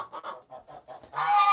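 Chickens in a backyard flock, including a white leghorn, give a few quick, soft clucks, then break into a louder, sustained squawk near the end.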